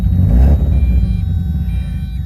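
A project car engine starts up and runs rough at close range, a loud, steady low rumble with uneven pulsing throughout and no talk over it.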